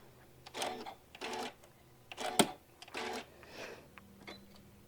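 A sewing machine stitches along a fabric edge in short repeated bursts of whirring, with quick mechanical taps and clicks between runs, close and clear.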